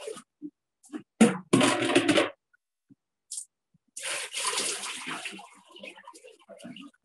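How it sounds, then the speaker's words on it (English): Buckets of water poured into a papermaking Hollander beater in a studio: short splashes, then two loud gushing pours that tail off into softer dribbling, with a voice briefly heard. "So now I'm gonna add a couple buckets of water."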